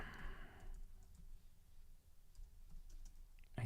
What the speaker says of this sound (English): I'm typing it in here.